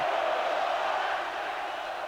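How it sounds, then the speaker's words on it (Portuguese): Stadium fans at a 2004 Brazilian league football match applaud the runner-up side, a steady, distant wash of clapping and crowd roar that holds evenly throughout with a commentator talking over it. "o vice-campeão brasileiro recebe aplausos"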